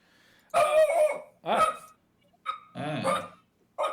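A dog barks in several loud, close bursts of roughly half a second each, separated by brief pauses, heard amid a tabletop role-playing session.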